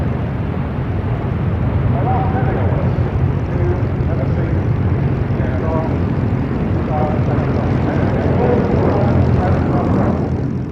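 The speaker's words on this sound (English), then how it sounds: "The Folland Nat was designed as a single-seat lightweight fighter and achieved combat success for India against Pakistani Sabres." Folland Gnat jet trainer flying at the International Ayr Show, a continuous broad jet roar at moderate distance that stays steady and fills the whole stretch with no voices.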